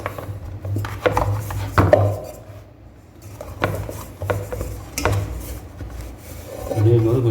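Paratha dough with mixed vegetables being kneaded by hand on a surface, with repeated soft rubbing and slapping pushes in an irregular rhythm, close and fairly loud.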